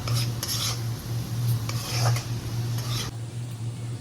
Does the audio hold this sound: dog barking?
no